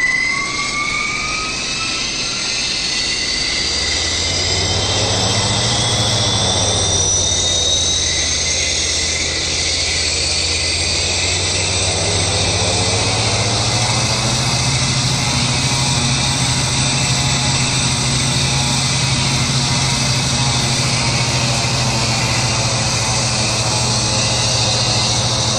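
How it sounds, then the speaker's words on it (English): A simulated aircraft's left jet engine spooling up in a flight simulator, a loud continuous roar with rising whine that sweeps upward, dips and then settles into a steady high-pitched hum with constant rumble beneath. "Left engine, start button pressed."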